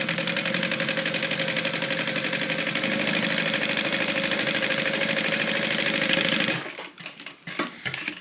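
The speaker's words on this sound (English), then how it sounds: "we're going to sew this together with a 3/8 inch seam allowance" A sewing machine stitches a tote bag seam with a 3/8 inch allowance, a fast steady mechanical whir with rapid needle ticking held for about six seconds, then stopping, leaving a few soft fabric handling sounds.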